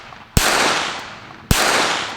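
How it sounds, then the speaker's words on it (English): Two sharp pistol shots from a KelTec P17 .22LR ring out about a second apart outdoors, each a loud crack followed by a lingering echo tail, with no talking in between. "So let's do a little bit more shooting."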